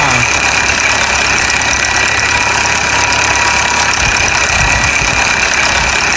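A Mahindra Arjun 605 tractor pulling two 18-foot trolleys up a sandy hill, its engine a loud, steady, laboring drone with a constant whine throughout, and a deeper rumble near the end.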